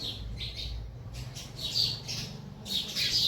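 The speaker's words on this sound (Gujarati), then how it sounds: "ચકલા બોલે છે" Sparrows chirping around a house, a steady scatter of small bright chirps and tweets at moderate distance over a low background hum, no speech.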